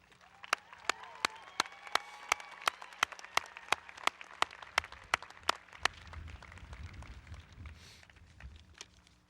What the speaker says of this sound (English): Please join me in a round of applause for our wonderful Shawnee Mission East faculty.